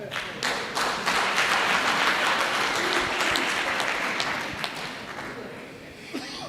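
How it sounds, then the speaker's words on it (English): A municipal council gathering breaks into a loud round of applause, sustained dense hand clapping with a few distinct sharp claps, fading near the end, with some voices underneath. "Give them another round of applause."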